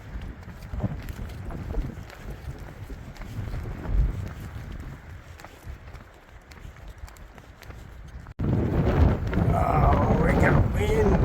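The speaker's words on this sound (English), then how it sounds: "Oh, it got windy." Gusty wind buffeting the microphone on the Continental Divide Trail, rumbling and uneven, growing stronger near the end, with faint footsteps.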